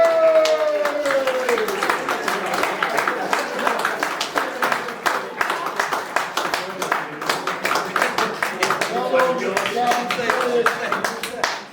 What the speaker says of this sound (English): Please, a big cheer, Dan Knight.